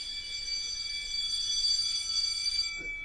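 A school bell rings in one steady, continuous electric tone for about three seconds, bright and sustained at moderate distance, with no voices over it.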